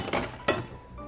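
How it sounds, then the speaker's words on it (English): Ice cubes dropping into a rocks glass for a rum sour, two quick bright clinks about a third of a second apart, close and crisp with a short ring after. "So we're serving this up over ice"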